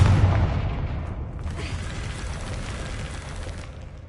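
A Depulso spell cast in a video game lands as a loud, deep boom that fades into a sustained rumbling wash over about four seconds, with no talk over it.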